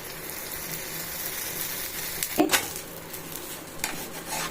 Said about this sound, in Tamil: நான் கொஞ்சம் ஈஸியாக தோசை மாதிரி ஊற்றுறேன் மெதுவாக இழுத்துற வேண்டியதுதான் ஊற்றி எண்ணெய் விட்டுறலாம் லைட்டாக